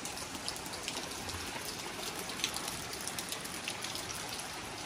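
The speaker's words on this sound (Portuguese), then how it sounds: "vem outro pé d'água" Heavy rain shower pouring down on a small farm, a dense, steady hiss of drops with scattered louder patters close by, continuous with no voices.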